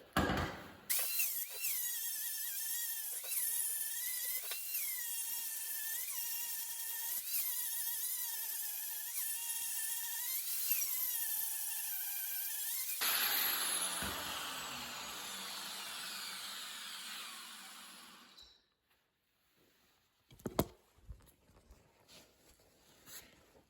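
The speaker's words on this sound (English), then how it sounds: "I ground those welds off and I held my grinder flat the whole entire time" A mini grinder grinds weld seams flat on a steel plate, a steady high whine with rhythmic pulses for about thirteen seconds, then a rougher hiss that fades into near silence with a few faint knocks.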